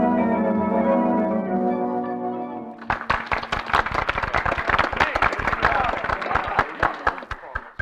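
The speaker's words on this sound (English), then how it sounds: "Commissioner, you can stop applauding now." The commissioner in a radio drama claps in a brisk, loud run of sharp, close handclaps, after a sustained musical chord fades out.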